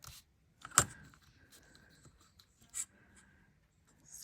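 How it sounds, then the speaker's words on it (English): A scoring tool is drawn across paper to make fold lines, producing a couple of short, sharp scratches and light rubbing, close and quiet, with silent gaps between strokes. "The only reason I'm scoring this is so that it's easier to fold."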